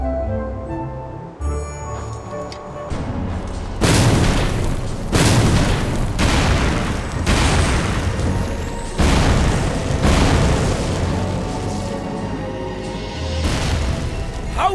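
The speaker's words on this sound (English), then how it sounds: "I'm referring to the cannon shot by the undead in front!" Heavy booming cannon blasts in the video game Astra Knights of Veda fire again and again in close succession, loud and resonant, with rumbling tails overlapping between shots.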